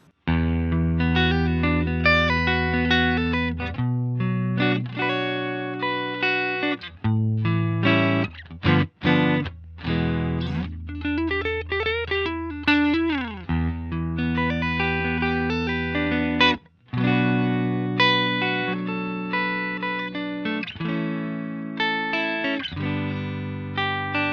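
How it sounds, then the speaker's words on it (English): Electric guitar notes and chords played through an MXR M305 tremolo pedal, a pulsing, warbling tremolo and phaser effect, with sustained ringing tones and a few brief gaps. "Now this is basically tremolo mixed with a phaser sort of sound"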